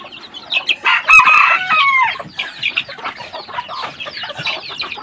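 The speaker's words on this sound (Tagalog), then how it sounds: "manghuhuli tayo ng dalawang inahin na lahi ng labuyo natin" Labuyo junglefowl hens clucking and crowing at close range, with a loud burst of squawking calls early on followed by steadier, fainter clucks.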